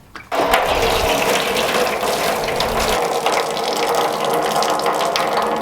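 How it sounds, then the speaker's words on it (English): Coolant water gushing steadily from a Ford Escort RS Cosworth's bottom radiator hose into a tray after a brief quiet start, a continuous splashing pour that holds constant and fairly loud. "pull the hose back and it'll drop all its water into the tray I've put underneath"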